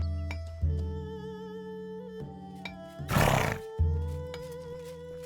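Horse neighing in Mortal Online 2, a loud drawn-out whinny bursting out between steady droning background tones and music, close and clear.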